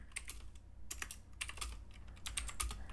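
Close, quiet clatter of keys on a computer keyboard while typing a file name, arriving in short irregular bursts of clicks with brief pauses between them and no talking.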